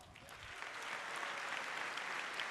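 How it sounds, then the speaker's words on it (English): Faint, distant applause from a large crowd at the Nvidia GTC 2018 keynote, a dense wash of clapping that swells slightly and holds steady. "Let's give them a round of applause."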